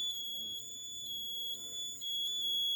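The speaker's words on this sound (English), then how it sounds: "Now I move near the PIR sensor. So the LED and buzzer are on." A buzzer set off by a PIR motion sensor in a basic circuit without a microcontroller gives a steady, high electronic tone held for the whole stretch, alone and fairly close.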